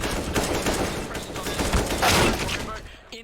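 Dense, rapid gunfire fills a Counter-Strike: Global Offensive round on the Cache map, with overlapping shots and bursts throughout and a commentator's voice running underneath the action.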